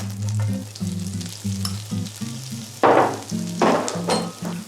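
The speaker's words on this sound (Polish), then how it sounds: "Masło roztopione, cebula ląduje na patelni." Onion frying in melted butter in a pan gives a steady sizzle, with a few louder bursts of sizzling and clinks as it is stirred.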